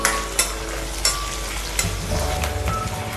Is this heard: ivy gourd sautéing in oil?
yes